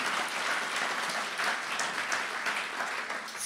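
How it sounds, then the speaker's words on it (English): Steady audience applause for musicians Delaney Davidson and Barry Saunders at a songwriting conversation event, a dense even wash of many hands clapping that holds at full strength without talk. "Delaney Davidson, Barry Saunders, I am amongst great company up here. Big round of applause, please."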